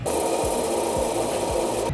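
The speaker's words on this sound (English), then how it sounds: "Sanding pass number three." Steady hand sanding of a 3D printed helmet coated in filler primer, a continuous gritty rasp with rhythmic strokes every half second or so, close and even.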